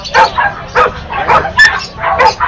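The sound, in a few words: Chihuahua dog barking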